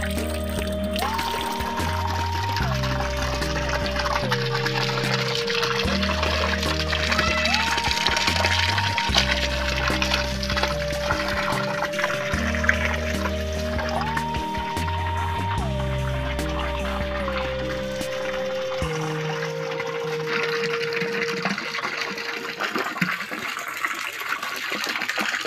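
Water gushes steadily at a fish farm pond as part of the water is drained and fresh water is added, a continuous rushing flow with a looping musical backing over it.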